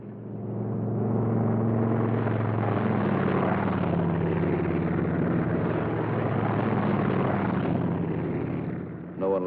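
Piston-engine P-47 Thunderbolt fighters of a squadron taking off from an airfield, a loud, steady, droning engine roar that holds without a break.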